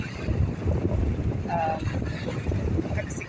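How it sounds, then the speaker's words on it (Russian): Steady wind by the sea in Sardinia buffets the microphone with a low rumbling roar, continuous and close, with faint surf and a brief voice underneath. "Погода хорошая, но ветер, конечно, немножко."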